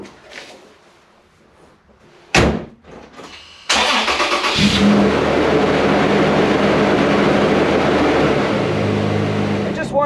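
A Toyota FJ Cruiser truck cranks and fires up after a transmission cooler line repair, its engine catching with a loud burst and then settling into a steady, close idle with a broad rumble.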